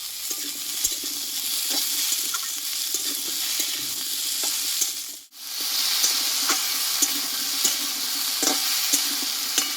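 Taro chunks tipped into a pan with browned onion sizzle and spit in a dense, continuous hiss, broken by light stirring scrapes and a brief dip to near silence midway before the frying noise resumes just as loud.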